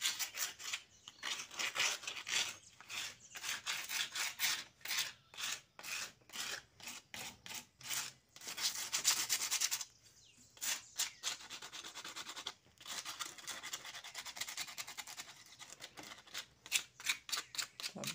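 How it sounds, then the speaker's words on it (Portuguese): Rapid rasping strokes of sandpaper and a scraper working over the weathered, painted surface of a cement garden gnome, close and fairly loud, in steady bursts with brief pauses and no talking. "Vamos lixar todo."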